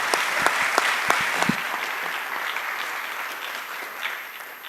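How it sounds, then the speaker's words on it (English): An audience applauds the panelists at a UAE talent-hub panel discussion, steady clapping from a full room that holds for several seconds and then slowly thins toward the end. "a big round of applause, please, for our esteemed panelists"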